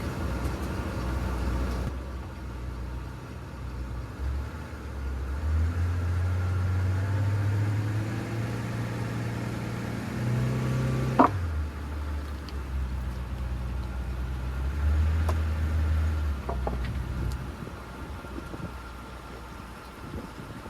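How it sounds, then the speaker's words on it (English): A car driving up onto car ramps: steady engine rumble with rising and falling revs as it climbs, a brief knock midway, close to the microphone, with wind-like broadband noise and no speech. "then it's time to drive the car on up"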